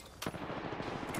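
Enemy automatic gunfire in a video game: a sharp crack followed by a steady rattling burst, faint and distant, with no voices.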